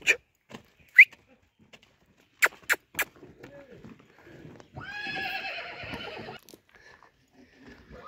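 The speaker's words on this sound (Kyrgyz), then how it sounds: "Жанар, кулуну көрсөтөңүз тугандар, кулуну өтө сонун экен" A young foal at a horse sale neighs in a loud, quavering whinny lasting over a second, preceded by a few sharp knocks and hoof clops, with no talk in the clip.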